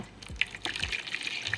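Warm water is poured into a Dollar Tree plastic container, giving a short, close splashing and trickling sound with brief gurgles, alone without talk.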